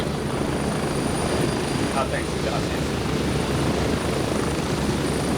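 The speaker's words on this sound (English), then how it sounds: "Watch out for the chopper." Helicopter in a video game, a steady broad rotor and engine roar filling the background throughout, with people talking over it.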